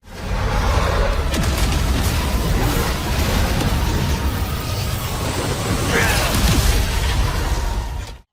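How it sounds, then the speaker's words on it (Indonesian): A huge, sustained explosion sound effect roars with a dense low rumble and crackling debris, loud and close throughout, in an animated fantasy series. "Ledakan dahsyat terjadi ketika Wang Lin bertabrakan dengan hukuman langit"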